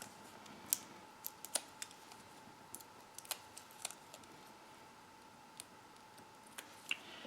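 A worn paper trimmer slices through card, giving a series of sharp, separate snips and ticks at irregular intervals, quiet and close against a faint steady room hum.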